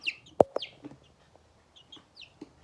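Young chickens in a coop give a few close, sharp clucks and short chirps, scattered unevenly with quiet gaps between them.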